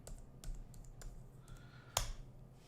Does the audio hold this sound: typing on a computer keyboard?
yes